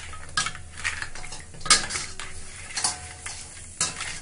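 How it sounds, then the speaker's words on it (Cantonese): Crab with egg, ginger and scallion stir-fried in a wok, heard as close, irregular metal scrapes and clinks of a spatula against the pan over a soft sizzle, with several sharper clatters spaced through the stretch. "然之後就炒，兜多2下得㗎啦，唔好太耐。"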